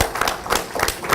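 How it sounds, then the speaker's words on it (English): An audience at a poetry event applauds for a woman named Gabrielle, a short burst of dense, steady clapping from a room full of people. "she deserves a bunch of our applause"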